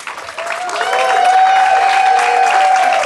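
Crowd applause at a 2023 ribbon cutting for a senior living community in Romeoville, swelling from a soft start into loud sustained clapping with whistles and cheers riding over it.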